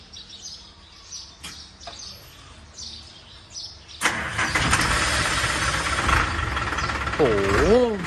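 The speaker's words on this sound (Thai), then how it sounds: "สตาร์ทเครื่องให้ฟังดิ" The engine of a small white pickup truck cranks and fires up abruptly partway through, then runs loud and close at a rough idle, with a person's voice and faint background sounds before it starts.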